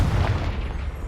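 A Confringo spell explodes in Hogwarts Legacy, a deep, loud boom that rumbles and fades over about a second.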